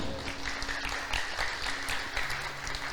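A church congregation applauding in worship, a steady wash of clapping at moderate distance with some murmured voices underneath.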